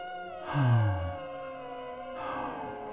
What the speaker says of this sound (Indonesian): Suara seseorang, pelan, berat, seperti menahan napas panjang.